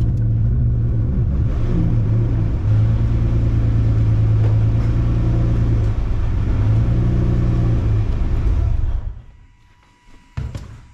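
A Volkswagen Thing idles with a misfire, a loud close rumbling engine with an uneven, lumpy pulse that runs steadily before cutting off near the end, leaving a few faint clicks and knocks.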